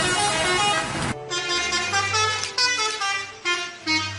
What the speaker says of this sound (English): it is a common practice for bus drivers to customize their horns to sound very interesting and sometimes a bit strange